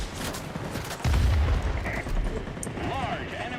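Gunfire from an enemy boat in World of Warplanes, a loud burst of booming shots over dense game noise, with a heavy low thump about a second in and a speaking voice underneath.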